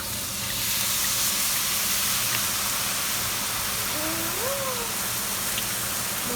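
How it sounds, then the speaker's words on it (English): A pan of prawns, vegetables and prawn-head juices deglazed with white wine for a seafood soup, giving a steady, loud steamy hiss and sizzle that holds evenly throughout. "Now I'm going to deglaze the pan with a little white wine."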